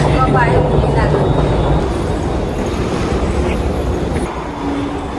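A train rumbles through a Berlin metro station, a loud steady roar with rattling that slowly fades, with a person talking faintly over it.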